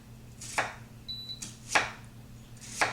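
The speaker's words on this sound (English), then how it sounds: "I'm going to add to that 1 onion that I'm just chopping up." An onion being chopped with a knife on a cutting board gives three sharp, evenly spaced thuds about a second apart, close and crisp against a quiet kitchen background.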